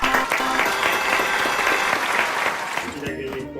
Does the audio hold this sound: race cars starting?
no